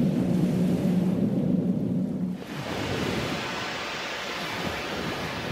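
Ocean waves at a wave power station surge and break loudly, a deep churning roar that gives way to a broad hissing wash of surf and spray.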